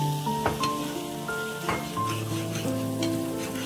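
Tomato sauce stirred into spice paste frying in a pan for hilsa malai curry, a bright continuous sizzle with scraping stirs and occasional clicks of the spoon, close and alone.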